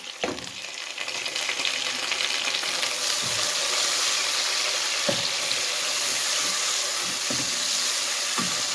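Browned onions, cumin and tomatoes fry in a pan with a loud, close, continuous sizzle, broken by occasional clatters of stirring.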